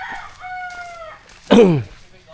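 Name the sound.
rooster crowing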